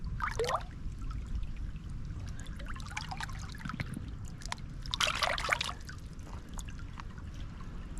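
Water swished around rocks by hand, a soft trickling and splashing with a louder burst of churning near the middle over a steady low background.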